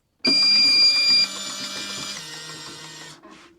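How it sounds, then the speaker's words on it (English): A noisy fan switched on inside a camper van, a loud steady whirring hum with a whining tone that starts abruptly, drops in pitch partway through and then cuts off. "Guys, it's f***ing noisy, that fan."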